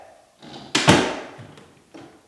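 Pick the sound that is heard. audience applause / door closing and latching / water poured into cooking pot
door closing and latching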